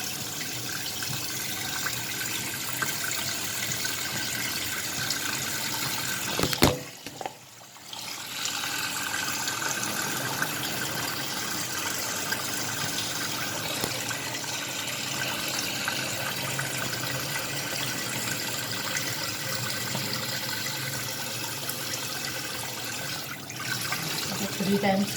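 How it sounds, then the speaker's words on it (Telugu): Raw chicken washed under a running kitchen tap, a steady rushing stream of water with a brief interruption, water splashing over the meat throughout. "ఇప్పుడు చికెన్ని కడుక్కోవాలి బాగా."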